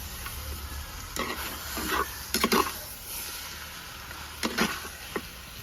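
Mutton head fry being stirred in a hot pan, with several distinct scraping and clanking stir strokes over a steady low sizzle, close and moderately loud, no voices.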